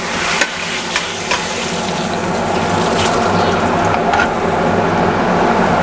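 A sous vide steak sears in a cast iron skillet, giving a loud, steady sizzle that runs unbroken throughout, with a few faint ticks near the start and no voices.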